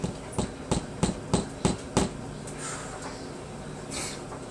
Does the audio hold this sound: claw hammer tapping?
yes